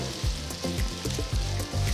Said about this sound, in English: I'm not deep frying them, I'm just pan frying it with a little oil.